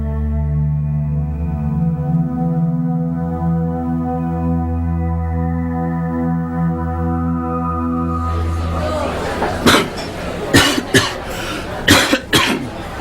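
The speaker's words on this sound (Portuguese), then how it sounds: "Cada vez que tosse ou espirra, ele dispara germes." A man with a cold coughs in a handful of harsh, raspy bursts, close and fairly loud, which break in after a long steady droning tone and come in quick irregular succession.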